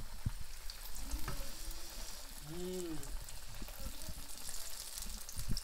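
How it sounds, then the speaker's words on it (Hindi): Chicken pieces frying in oil in a home kitchen, a soft steady sizzle with scattered crackles and a faint voice briefly in the background. "डालते हैं और इसको फ्राई करते हैं"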